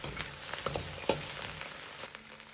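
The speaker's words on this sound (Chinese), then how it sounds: "翻炒大概2分钟左右，炒至羊肉表面稍微有点焦黄" Lamb being stir-fried in a hot pan for a lamb soup, a steady close sizzle broken by several sharp crackles and scraping stirs, with no talking.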